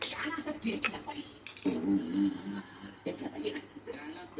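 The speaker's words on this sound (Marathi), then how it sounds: "तू किचन मधली भांडी काढली का सगळी?" Kitchen pots, pans and cutlery taken out as toys clink and clatter in scattered bursts nearby, while people talk and chuckle over the metallic knocks.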